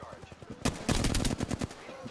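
Rapid bursts of automatic weapon fire in Apex Legends, a quick volley of sharp shots clustered together, fairly loud against quieter distant shooting.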